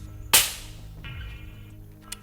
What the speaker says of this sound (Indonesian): Tembakan pertama diluncurkan.